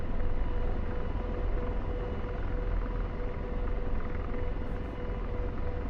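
Apache military helicopter heard as a steady, loud broadband rotor and engine rumble, constant and close throughout with no speech.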